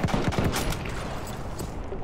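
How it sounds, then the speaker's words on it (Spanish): Rapid bursts of gunfire in a Battlefield 1 match on the Amiens map, a quick volley of close shots at the start, then a steady background of distant firing and battle noise. "Esos tiros"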